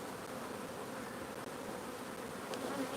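Honey bees buzz around a hive just opened at an apiary, a continuous dense droning swarm close by, with no talking.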